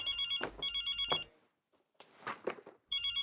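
A telephone bell rings in two clear bursts of repeated electronic trills, then a pause with other brief sounds, then the ringing starts again, loud and close in a home setting.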